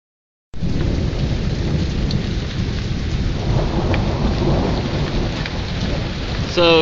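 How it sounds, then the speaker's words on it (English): Heavy rain and a thunderstorm during a power outage, a dense, loud roar of rain on surfaces that begins suddenly and continues steadily, with deep rumbling underneath. "It's raining like crazy."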